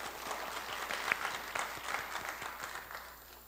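An audience at a Korean regulatory innovation competition gives a round of applause for the judges, a faint, steady patter of many hands that slowly fades.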